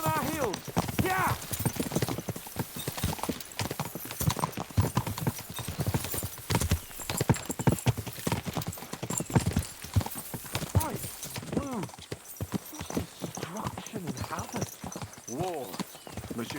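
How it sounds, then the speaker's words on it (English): Horse hooves clatter in a fast galloping rhythm in Kingdom Come Deliverance 2, with several horses riding together and an occasional whinny, all under continuous talk from the characters. "We should spur the horses on."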